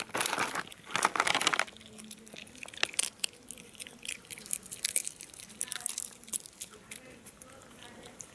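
Pets chew and smack on a treat with wet, crunchy bites and crinkling close by. The sounds come in bursts over eight seconds, and a person talks quietly now and then.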